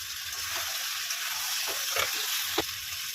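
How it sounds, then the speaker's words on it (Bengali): Prawns are fried with spices for a prawn malai curry, a soft continuous sizzle broken by a few brief stirring knocks and scrapes. "এবার এই মাছের সঙ্গে মশলার সঙ্গে কষিয়ে নেব।"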